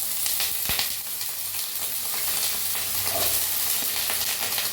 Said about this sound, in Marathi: पहिला आपण काय करूया बटाटो भाजून घेऊया